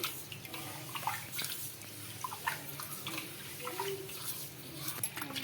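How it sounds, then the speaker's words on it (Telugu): Water sloshes and splashes as soaked ragi grain is pressed and rubbed by hand in a bowl, continuous and close with no talking. "బాగా ఇలా చేతితో బాగా ప్రెస్ చేసుకుంటూ బాగా కడుక్కోవాలి"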